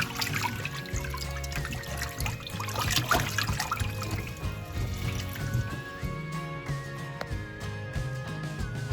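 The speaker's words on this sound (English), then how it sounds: "I'm just squishing around the water here now, folks. Trying to get the water to dissolve." A hand swishes and squishes water in a container to dissolve salt for a capelin brine, giving soft trickling, sloshing liquid sounds that are quiet and continuous with no talking.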